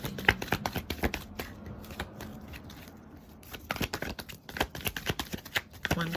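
A tarot card deck is shuffled and split by hand, with rapid riffling flicks and soft card slaps in quick irregular bursts, close and fairly quiet, with a brief lull in the middle before the shuffling resumes.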